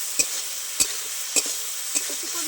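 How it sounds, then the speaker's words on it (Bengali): Fried pakal fish stirred in a sizzling spice gravy: four separate, evenly spaced utensil scrapes over a steady, close sizzle, with no voices. "এবার কিছুক্ষণ নেড়ে চেড়ে নেব।"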